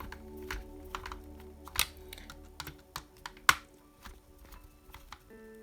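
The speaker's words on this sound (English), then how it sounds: "Now we can screw these all the way in." Small screws are driven into a Tamiya Fast Attack Vehicle model on the FAV chassis while fitting the rear axle, giving faint, close plastic clicks and ticks in an irregular patter, with a couple of sharper snaps.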